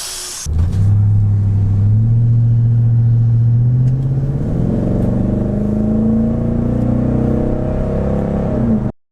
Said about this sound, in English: now it's about time to get our cold start and hear what it sounds like